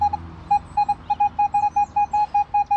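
A Minelab Manticore metal detector sounds a loud target tone as a fast series of clipped, evenly spaced beeps close to the microphone, with faint outdoor rumble beneath.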